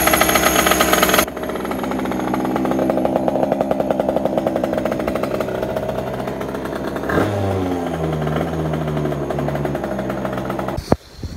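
A 100cc two-stroke Spitro scooter engine, started after seven months unused, idles with a rough, rattling buzz, then revs up sharply around midway and settles, close and loud throughout.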